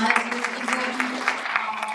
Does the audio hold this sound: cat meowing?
no